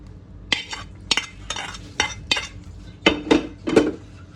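A spoon stirs semiya payasam with roasted cashews in a pot, about eight distinct metallic scraping clinks in an uneven rhythm, close and fairly quiet, with no talk.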